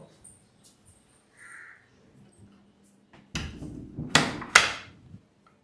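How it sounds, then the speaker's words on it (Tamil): A door in a home is shut: a firm thud, then two sharp wooden bangs in quick succession, fairly loud against a quiet room with faint background sounds before it. "முதல்ல அந்த கதவை சாத்து போ"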